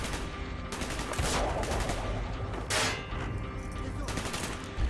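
Bursts of gunfire in Call of Duty: Black Ops, several loud cracks and rattling volleys spread across a few seconds over a rumbling battlefield bed.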